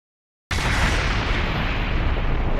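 After a short silence, a loud sustained explosion roars from Naruto Shippuden: Ultimate Ninja Storm 4, a dense, broad blast rumble that holds steady to the end.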